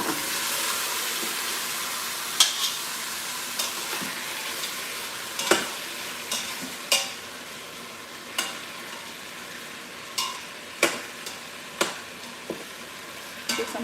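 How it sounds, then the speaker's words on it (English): Oxtail searing in oil in a pot, a steady low sizzle and hiss with occasional sharp pops and clicks of stirring scattered throughout, no talk. "I'm just going to put the oxtail in the pot with the oil so it can like sear a bit"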